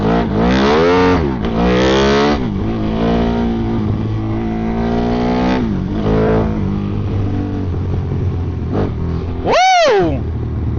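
A Honda Grom motorcycle with a swapped-in Ducati 1199 engine revs hard and repeatedly on an open road, its loud rising and falling engine note near and continuous, with a sharp high rev surge close to the end.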